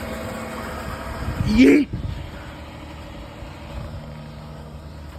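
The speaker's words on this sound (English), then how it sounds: "Listen to that motor. It's very loud because, like I said, it's very cold." A 2007 Dodge Charger SXT running just after an extreme cold start, a steady low engine rumble nearby throughout, briefly drowned out by a loud shouted exclamation.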